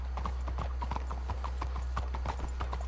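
Horse hooves clip-clop in a steady, brisk rhythm in Red Dead Redemption 2, the beats close and clear over a low background hum.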